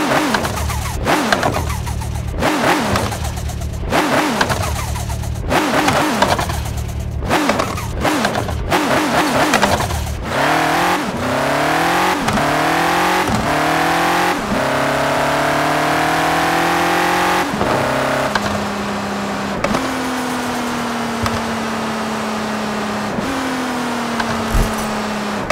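A BMW with a sport exhaust revs hard in the Car Parking Multiplayer mobile game, the engine note rising and falling in rapid repeated bursts before settling into long climbing pitch sweeps as it accelerates, loud and continuous throughout.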